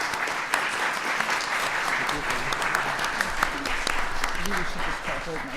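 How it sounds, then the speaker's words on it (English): A roomful of people applauding panelists after a theology talk, steady dense clapping throughout with a few voices audible underneath. "So a round of applause for all of them."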